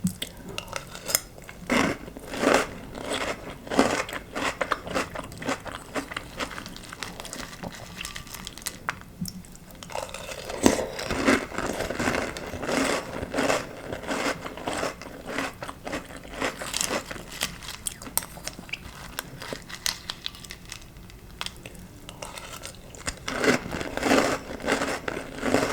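Fruit Loops cereal being eaten with spoon clinks against a bowl and steady crunchy chewing, close and continuous, with no talking.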